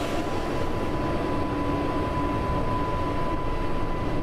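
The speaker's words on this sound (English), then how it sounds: "This train's even louder than the underground train." Loud, steady rumble of a train in Train Sim World 4, a dense continuous roar with a thin sustained whine running through it, constant in level and heard alone without talk.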